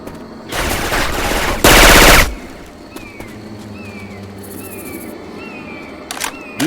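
Left 4 Dead 2 gameplay with Syphon Filter weapon effects swapped in: a burst of rapid gunfire builds into a loud, dense blast of shots, followed by quieter scattered game sounds and a sharp shot at the end.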